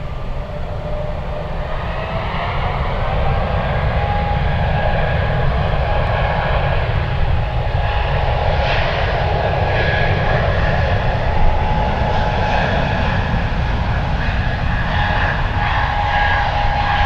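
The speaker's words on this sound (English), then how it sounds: "Delta's 1412 flying to Seattle, Washington. That's an A220." A Delta Airbus A220 jet passes at San Francisco airport, a sustained, broad engine rumble that builds early and stays level, with faint whining tones drifting through it.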